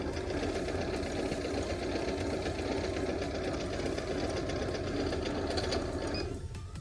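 A Juki Babylock QC 8500/9500 sewing machine runs its function 13 stitch, a close, fast, steady mechanical whirring and clatter that continues without pause before easing slightly at the very end.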